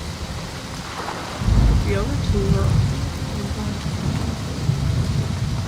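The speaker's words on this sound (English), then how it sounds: "I hate rain in real life, so this is like, aggravating." Rain and thunder in the video game Season: A Letter To The Future: steady rain hiss under a deep thunder rumble that swells partway through and lingers, with brief speech over it.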